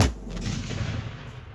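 A barking dog chemical reaction detonates in a tube with a single loud, close boom, followed by a rumbling roar and echo that gradually fade.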